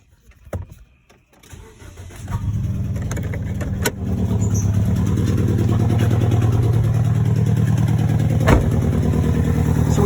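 Car engine with a random multiple-cylinder misfire traced to the number one coil pack cranks and starts, then idles with an uneven, stumbling rumble, close and steady.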